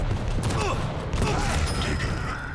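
Rockets fire and blast in a fast competitive video game match, with sharp booming bursts close up over a busy background of game noise and a voice talking.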